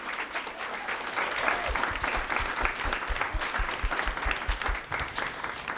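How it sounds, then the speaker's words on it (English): An audience claps for a Q&A panel at a technology and tarot gathering, producing sustained, even applause from a moderate crowd throughout, with no voices over it. "We'll clap for them one more time"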